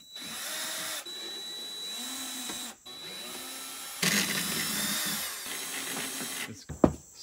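An electric power drill drives fasteners into a window on a homestead shed's siding outdoors, its motor whining in several bursts of a few seconds each, with brief pauses between them and a sharp clatter at the end.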